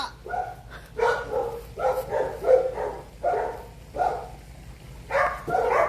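A guard dog barks in short, repeated bursts, several loud close barks spaced unevenly with brief pauses between them, and no talk over it.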